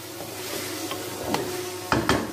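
Chicken liver frying with green chilli and turmeric in a pan, a steady close sizzle broken by a few sharp stirring scrapes near the end.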